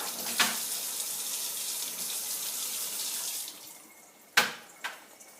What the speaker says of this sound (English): I just wet my brush and then just sort of shook it out so it's damp